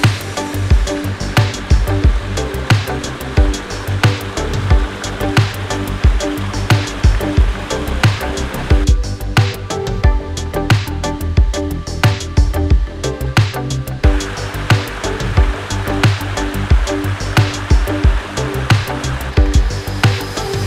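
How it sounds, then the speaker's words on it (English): Steady loud rush of flowing water near the Big Falls swimming hole in Leonard Harrison State Park, Pennsylvania, a constant close roar with no voices. "I can hear water, so we gotta be getting close to something."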